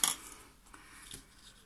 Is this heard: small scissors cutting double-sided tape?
yes